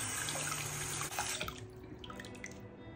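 Makeup brushes being rinsed under a running tap give a steady, close splash of water into a sink, with small drips and shifts as the brushes move through the stream.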